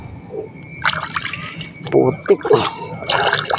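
Water trickles and drips while muddy scrap iron is washed by hand, with small splashes and sloshes coming up close in uneven bursts, and someone speaks briefly over them.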